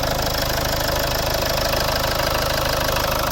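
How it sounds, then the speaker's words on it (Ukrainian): A 2010 Mitsubishi Outlander XL 2.2 diesel engine idling steadily up close, with an even low rhythmic knock and a constant mechanical hum, no voices. "Ось робота двигуна, рівно, тихо."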